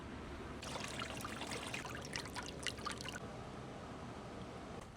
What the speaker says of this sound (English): now we are ready to put water back in this table